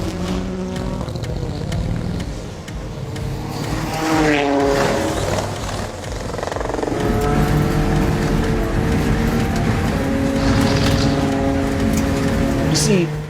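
Kamaz cross-country rally race truck driving at speed, a loud engine roar that climbs through rising gear pulls and swells, with voices talking over it.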